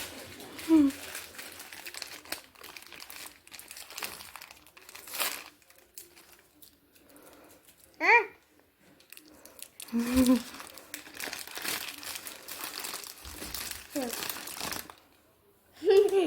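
Plastic shopping bags from a candy shop crinkle and rustle in bursts close by, with people talking quietly in between.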